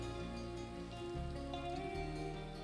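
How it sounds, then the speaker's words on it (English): Steady rain falls in a continuous wash with a low rumbling undertone, loud and close, with no talking. "the rain had to come and ruin that"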